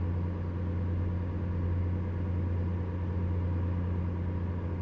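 A steady, low truck engine rumble in American Truck Simulator drones on without a break, even and continuous, with no voices over it.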